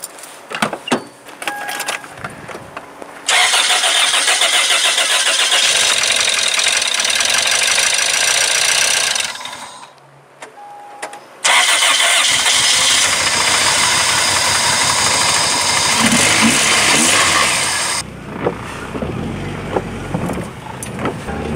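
Newly installed engine in a 2002 Toyota Corolla cranking and catching, running loud and steady for several seconds, dropping out briefly, then starting again and idling before settling into quieter ambient noise.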